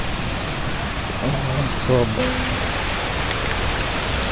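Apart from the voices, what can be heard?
Sirimane waterfall falling, monsoon rain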